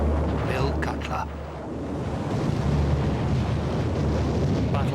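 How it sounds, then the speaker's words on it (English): Naval bombardment of the Normandy coastline by battleships, cruisers and destroyers during D-Day, heard as a continuous heavy roar and rumble of distant gunfire and blasts with wind-like noise, steady throughout. "Nearly 200 ships bombard 50 miles of the Normandy coastline."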